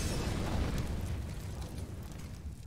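An incendiary grenade bursts in Counter-Strike with a loud, low rumbling whoosh of flame that swells at once and then slowly fades, carrying steadily for the whole stretch with no talk.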